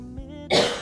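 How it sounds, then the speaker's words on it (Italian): A single short cough toward the camera, close and abrupt, following a brief throat sound, with no speech around it. "colpo di tosse in questo periodo, vabbè, verso la telecamera"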